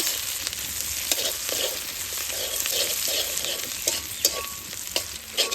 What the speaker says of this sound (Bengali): পেঁয়াজ ফোড়ন দিয়ে দিছি